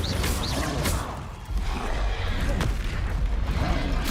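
Incendio fire spell blasts from Hogwarts Legacy combat: dense, loud booming and whooshing bursts with a brief dip before the clash swells again, steady and close throughout.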